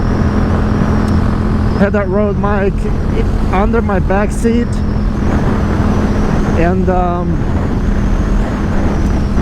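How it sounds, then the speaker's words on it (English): Steady loud engine and exhaust drone from a 2022 Yamaha MT-07 fitted with an Akrapovic exhaust while riding in New Mexico, running continuously under someone talking throughout. "I have been using a Rode mic to capture just the exhaust sound, not me talking, but just the exhaust sound of the bike."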